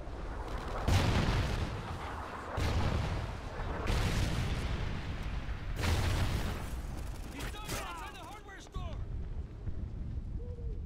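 An incoming Trinity rocket strike in Call of Duty Ghosts online multiplayer: heavy rumbling blasts and booming impacts roll in repeated waves amid battlefield noise, with a brief radio-style voice near the end.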